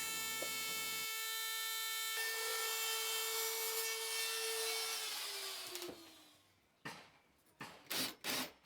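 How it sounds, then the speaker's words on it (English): A router with a flush cutting bit trims excess wood on a cartwheel, a loud sustained whine with a steady tonal drone that winds down, followed by several short scraping bursts of wood work. "I can then use my router with my flush cutting bit to just run around and cut the excess wood off"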